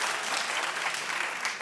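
A television talk-show studio audience claps in a steady, dense burst of applause that holds evenly for the whole stretch, loud and close.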